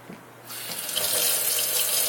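A kitchen tap turns on after a moment of quiet, then water runs in a steady, loud hiss and splash, measured out for brownie batter.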